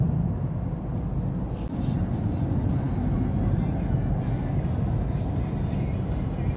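A car driving over a bridge from Phuket Island toward the mainland in South Thailand, heard from inside as a steady low road rumble and engine drone with no clear changes.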